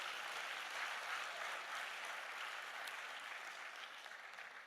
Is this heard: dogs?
no